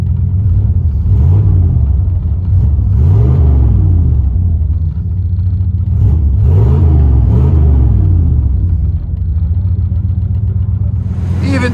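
A 1995 Chevy Silverado dually with a 454 big-block V8 and 3.5-inch straight-pipe exhaust rumbles loudly at idle, then revs up in two deep roaring surges before settling back, heard up close with no talking.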